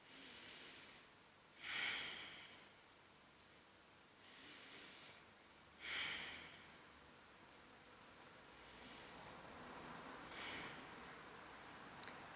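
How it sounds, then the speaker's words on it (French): Slow, deliberate breaths during a calm mindfulness breathing exercise, with two distinct audible exhalations a few seconds apart and a fainter third one later, close and soft over quiet hiss. "Donc on respire un petit peu."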